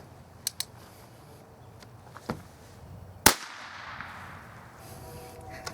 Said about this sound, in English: I'm going to take a couple shots of those swingers, see if I can make them ring.